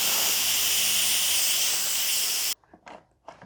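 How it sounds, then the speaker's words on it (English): An Instant Pot pressure cooker vents steam in a quick release of pressure after cooking artichokes, giving a loud, steady roaring hiss that stops abruptly, followed by faint clatter and handling noises. "this is one time we want to do a quick release of any remaining pressure"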